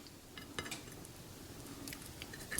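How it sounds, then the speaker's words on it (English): Small metallic clinks and scrapes of a utensil against a pan as fish gets turned over, quiet and close, with a faint background hiss. "And then let's flip the fish."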